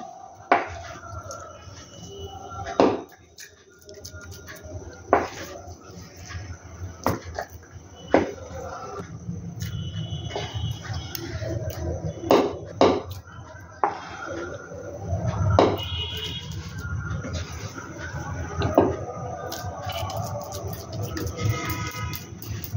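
Sweet paneer sandesh mixture for kalakand being scraped and spooned from a pan into two small containers, with a run of utensil knocks and clinks against the vessels over a low steady background, close and moderately loud.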